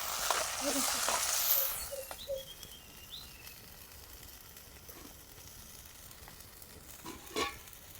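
Ground tomato paste sizzles with onions in a pan for a fish gravy, beginning with a louder burst of frying hiss and stirring that settles into a soft, steady sizzle with occasional scraping clicks.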